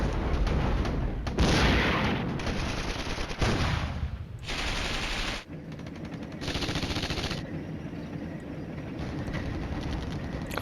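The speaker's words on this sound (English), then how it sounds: "He's shooting at me here." Gunfire in the wargame Flashpoint Campaigns: Red Storm, with bursts of machine-gun fire and crackling shots in several loud blocks, interrupted by short gaps and a sudden cut before more sustained firing.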